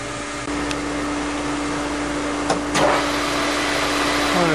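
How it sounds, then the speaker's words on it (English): A Fiat 600 flywheel turns on a lathe, being machined for use on an 850 engine: a steady mechanical hum with a constant tonal whine, broken by a couple of brief scraping bursts from the cut. "Today we have a little Fiat 600 flywheel on the lathe."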